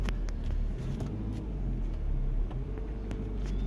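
A Nissan Micra K12 petrol engine runs steadily after being started in second gear, a low, continuous rumble close by with a faint hiss on top and no voices.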